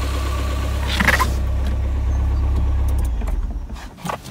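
A Ford Fiesta ST with a direct-injected engine, bought as a salvage auction car, idles close by with a steady low hum and a fine mechanical ticking on top, plus a couple of brief louder bursts.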